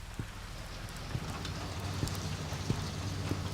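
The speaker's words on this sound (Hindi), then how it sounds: "बारिश हो रही है।" Steady rain falls outdoors as a dense, even hiss with occasional soft drop taps, moderately quiet and unbroken throughout.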